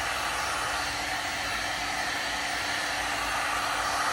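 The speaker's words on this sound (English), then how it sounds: "I've got a good sense for how much this takes with the heat gun" A heat gun blows a steady, loud, hissing roar of hot air onto a Micro SnapJaw hood, holding one even tone without a break.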